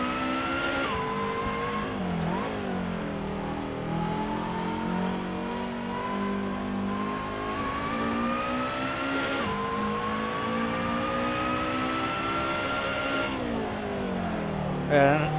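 A race car engine in Assetto Corsa at Zandvoort revs and climbs through the gears, dropping sharply at each shift and pulling up again, loud and continuous throughout.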